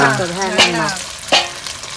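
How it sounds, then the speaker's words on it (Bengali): Egg and lentil fritters fry in hot oil with a close, steady sizzle. A couple of brief stirring scrapes cut through it, and a short voiced sound comes at the start. "একটু তেলে ভেজে নেব"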